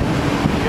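Strong wind at Keflavik Airport in Iceland on a dark evening, a steady broadband rush buffeting the microphone with low rumbling gusts throughout.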